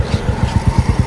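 Motorcycle rolling along in neutral, with a close, loud engine putter in a quick regular pulse of about eight beats across the short stretch.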